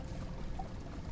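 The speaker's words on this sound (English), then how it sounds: "I'm pouring a lot of water onto the ground." Water pours onto the ground in the farming game My Time at Sandrock, a brief steady splashing rush of about a second, fairly close and moderately loud, with no voices over it.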